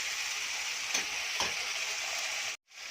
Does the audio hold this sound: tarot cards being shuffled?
no